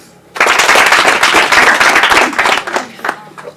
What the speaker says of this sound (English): A clap for that.